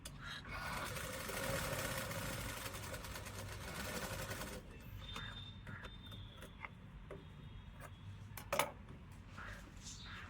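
A sewing machine stitches tucks on a blouse, giving a steady, quiet mechanical whirring for about four seconds before stopping, followed by faint handling sounds and a small click.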